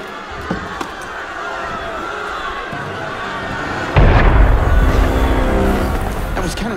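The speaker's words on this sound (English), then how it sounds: "That was cannon fire." A heavy boom in the Assassin's Creed Unity video game: cannon fire erupts in one loud, close blast with a long rumbling tail, following quieter ambient sounds and faint voices.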